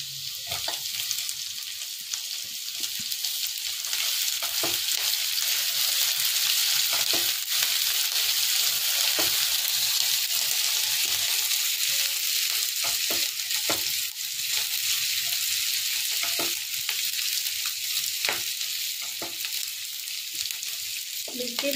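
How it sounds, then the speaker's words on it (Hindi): Chopped green chillies and ginger fry in hot oil in a pan, making a continuous bright sizzle with scattered soft scrapes and stirring taps, steady throughout and without any voices. "और अब हम इसमें डाल देंगे ये कटी हुई मिर्चें,"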